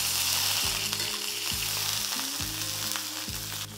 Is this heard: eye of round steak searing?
yes